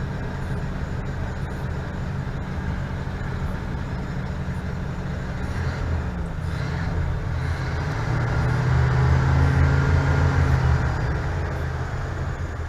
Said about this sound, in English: Good running old truck.